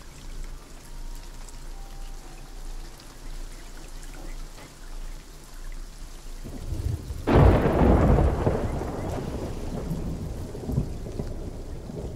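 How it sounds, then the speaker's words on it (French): Stormy Caribbean weather: steady rain and wind for several seconds, then a loud, close thunderclap that breaks and rolls on under heavy pouring rain. "Je t'entends pas, il y a trop la tempête."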